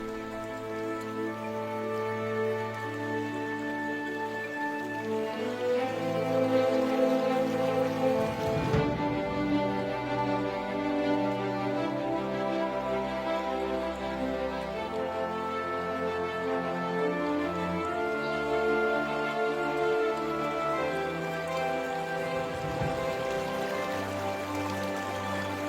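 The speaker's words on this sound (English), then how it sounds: "Heavy rain clouds mark the onset of summer." Heavy summer rain pours steadily over African wetland, drumming on surfaces with a dense continuous hiss, partly blended with musical tones throughout.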